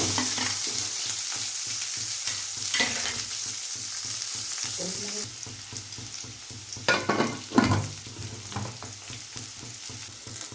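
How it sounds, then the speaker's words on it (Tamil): Mustard seeds, cumin and onion frying in hot oil for a simple vegetarian meal, a steady close sizzle with crackling spurts and occasional stirring scrapes, louder bursts near the end. "கடுகு போட்டுக்கலாம். சீரகம் போட்டுக்கலாம். வெங்காயம் ஆட் பண்ணிக்கிறேன்."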